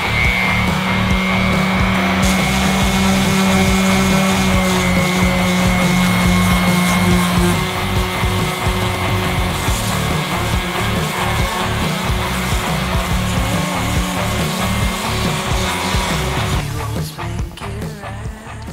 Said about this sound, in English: So I think we might be done sanding.